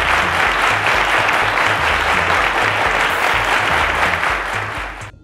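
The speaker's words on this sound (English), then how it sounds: "A round of applause," A studio audience at a televised quiz show gives steady, full applause that holds loud and continuous for several seconds before starting to fade at the end.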